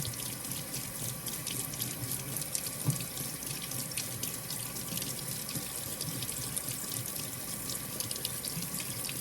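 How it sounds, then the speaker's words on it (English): Tap water running steadily over glass to rinse off etching cream, a continuous close splashing hiss with no pauses. "all we have to do is rinse it off"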